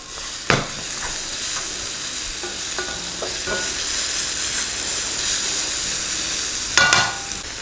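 Vegetables and noodles stir-fry in ginger and spring onion oil, making a steady loud sizzle and hiss, broken by a few clacks of a utensil tossing the pan.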